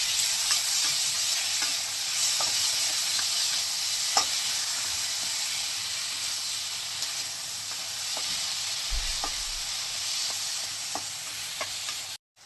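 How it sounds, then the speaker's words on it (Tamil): Tomatoes sautéing in hot oil for a village-style masala chicken fry, a steady close sizzle and frying hiss with light scrapes of stirring, no voices. "தக்காளியும் வந்து இந்த எண்ணெயில் வதங்கணும்."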